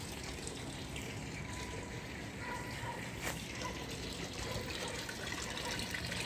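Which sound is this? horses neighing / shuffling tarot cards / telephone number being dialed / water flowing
water flowing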